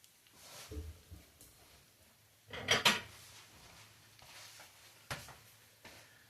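Plate and dishware clatter in a home kitchen while making pancakes and bacon on an electric griddle: a soft knock early on, a louder clinking burst of crockery near the middle, then a single sharper knock, all fairly quiet with no talk.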